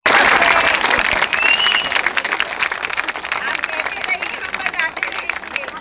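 A large crowd at Eklavya Stadium applauds film actor Surendra Pal Singh, with dense, steady clapping that fills the whole stretch and murmuring voices mixed in.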